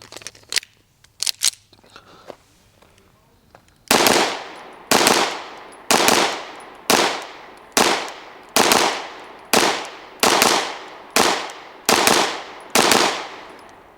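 Bul Armory EDC Pro pistol firing about eleven sharp, loud shots in a steady rhythm roughly one per second, preceded by a few faint clicks and handling noises.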